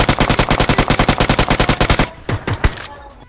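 Rapid automatic gunfire in the PUBG battle royale game, a fast steady burst of about twenty shots over two seconds, then a few scattered single shots and quieter game noise.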